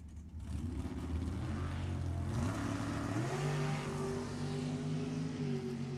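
Drag racing cars, including a Sacramento chassis dragster, launch down the strip with a steady engine roar that rises in pitch as they pull away, heard at moderate distance without talk.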